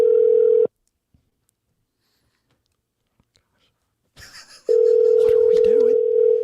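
A steady electronic telephone tone sounds, cuts off into near silence with a few faint rustles, then resumes and continues to the end.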